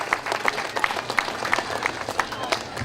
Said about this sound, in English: Please give my staff a round of applause.